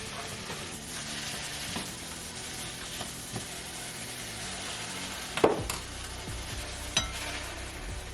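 Steady sizzling of mushrooms sauteing in a pan, with occasional stirring scrapes and a couple of louder clinks near the end.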